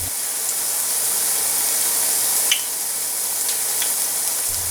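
German potato pancakes frying in a pan, a steady close sizzle and hiss of hot oil running throughout with a couple of faint ticks, no talking.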